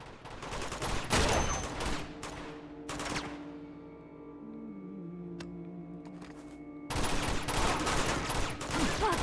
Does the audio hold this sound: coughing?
no